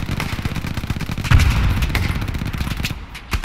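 Rapid bursts of automatic gunfire with a heavy boom in the middle crackle through a World War II shooter match in Hell Let Loose, loud and close, continuing in dense volleys.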